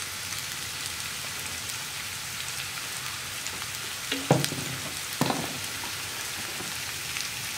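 Chopped onions with salt sauté in a pan for a Kerala beef roast, a steady soft sizzle with a couple of sharper scraping stirs midway.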